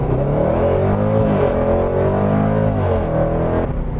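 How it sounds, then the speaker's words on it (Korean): A Jaguar F-Pace SVR, a 550-horsepower performance SUV in dynamic mode with manual shifting, accelerates hard from standstill, its engine roaring loud and steady as the pitch climbs and dips through gear changes. "시속 100km 가속 시간 직접 체크해 보도록 하죠"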